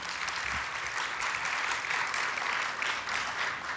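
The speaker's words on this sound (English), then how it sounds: "let's give our special award winners a rounding applause, please." An audience applauds special award winners at a student leadership awards ceremony, giving a steady, dense wash of clapping that fills the whole stretch without pause.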